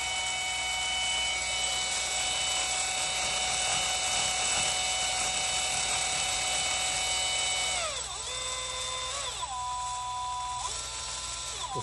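A power mixer stirs epoxy with a loud, steady motorized whine that holds for several seconds, then dips and shifts in pitch as the speed changes near the end.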